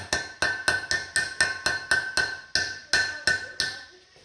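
A hammer taps around a brake seal during a 1969 Mustang disc brake conversion, about a dozen sharp metallic strikes in steady rhythm, each ringing out with a bright sustained tone, close and clear with no talk.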